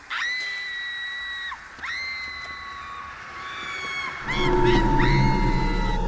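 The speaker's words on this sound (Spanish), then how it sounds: "¿por qué gritas como una niña?" A girl's high, drawn-out screams in a narrated creepypasta scene, several long sustained cries that rise and fall, fairly loud, with a denser, noisier burst of yelling near the end.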